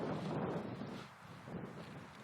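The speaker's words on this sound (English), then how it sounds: "Every time I go to make a video, it's frickin' windy" Gusty wind blows across a frozen lake straight into the microphone, a close, heavy rumble that dips briefly in the middle before surging again.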